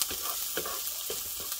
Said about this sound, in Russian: Тем временем не забываем перемешивать лук, чтобы он у нас не подгорел.